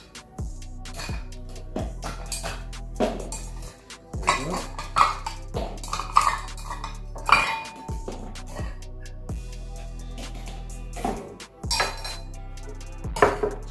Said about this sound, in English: fill our tin with ice cubes